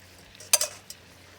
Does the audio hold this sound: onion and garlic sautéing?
yes